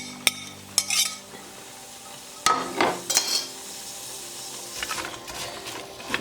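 Two medium sliced onions hit melted butter in a pan, with a soft sizzle underneath sharp utensil clacks and stirring scrapes that land in a few separate bursts.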